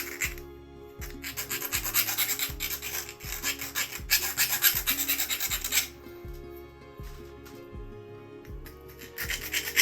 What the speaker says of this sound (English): So I'm going to start filing on this.